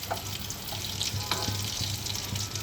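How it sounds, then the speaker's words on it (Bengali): Potato chops (aloo chop) frying in hot oil at home: a steady, close crackling sizzle with a low hum beneath and a few faint clinks, running throughout without talk. "এগুলো ভাজা হোক"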